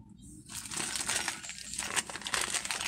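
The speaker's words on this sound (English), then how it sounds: "all these packages and crinkling and noises" Plastic packaging from a Huacan diamond painting kit crinkles and rustles up close in a steady stream of crackling for a few seconds during unboxing.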